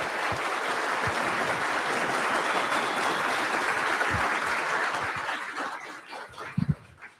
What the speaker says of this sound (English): big round of applause for Dinesh real quick